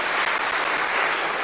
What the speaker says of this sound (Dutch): Nog een applaus voor Frank